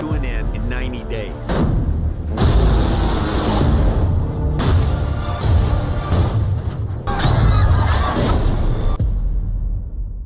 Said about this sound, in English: You know in the trailers when you hear that really big booming sound effect?